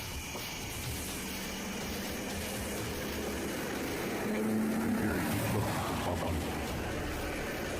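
A continuous engine rumble swells as a vehicle approaches and passes, surrounded by a broad wash of traffic noise.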